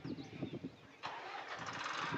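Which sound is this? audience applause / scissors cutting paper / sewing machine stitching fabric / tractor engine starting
tractor engine starting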